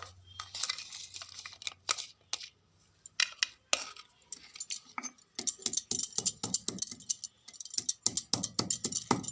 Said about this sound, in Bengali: আমি আদা রসুনটা একসঙ্গে বেটে নিচ্ছি